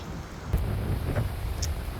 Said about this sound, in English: It's very windy out here.